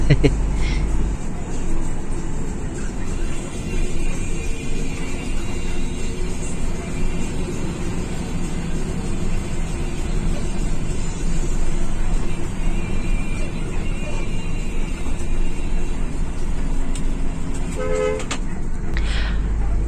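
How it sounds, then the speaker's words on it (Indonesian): A bus moves slowly toward the exit of a terminal while gathering passengers bound for Ponorogo, its engine a steady low rumble throughout, joined by a horn-like toot and background voices. "Pelan-pelan bis berjalan menuju ke pintu keluar sambil menyisir penumpang tujuan Ponorogo yang mungkin masih ada."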